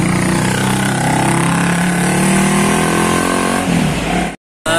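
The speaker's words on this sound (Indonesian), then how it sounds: "Melintas bus Medium Elvis Presley." A tour bus passes on a town road, its engine a loud, close, sustained drone that shifts in pitch as it goes by, then cuts off abruptly near the end.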